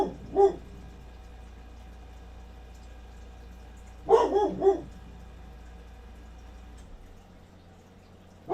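A dog named Belle lets out a single bark, then a quick burst of two or three barks a few seconds later and another at the end, moderately close over a low steady background hum.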